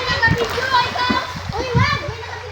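A splash as someone jumps into the sea, with children shouting and talking excitedly around it.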